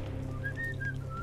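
A character in the video game Deadlight whistles a short wavering tune, a few thin clear notes drifting over a low steady background hum.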